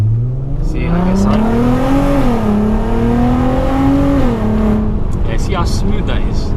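A VW Golf R32 engine revs up with a rising, then wavering drone, heard from inside or close by; a voice speaks briefly over it near the end.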